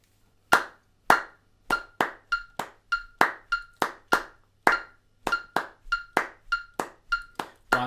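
Hand claps beating out a 2-2-1-2-2-2-1 clave pattern in eighth notes, a crisp uneven string of close, sharp claps repeated several times with nothing else heard.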